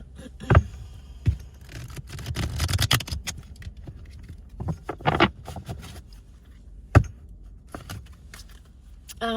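Tarot cards are shuffled up close, with soft papery rustling and scattered sharp slaps and clicks coming in uneven bursts.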